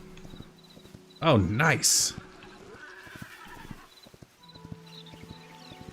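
A horse in the video game Hytale lets out a loud, close whinny, followed by scattered soft hoof clops, and a person speaks briefly.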